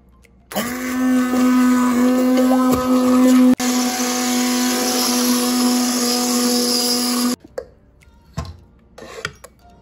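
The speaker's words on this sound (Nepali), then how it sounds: "र अब यो माछाको जाउलोलाई पनि मैले प्युरी गर्दैछु।" A blender purees fish porridge (jaulo) for babies, running as a loud steady whir for about three seconds with a brief interruption, then stopping abruptly, followed by faint clinks and handling sounds.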